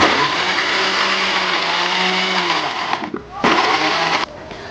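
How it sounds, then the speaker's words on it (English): A kitchen blender whirs loudly and steadily as it blends yam with water into a paste, its pitch shifting briefly before the motor cuts out and restarts, then drops to a quieter hum. "I'm adding in some water to help my blender in blending this yam"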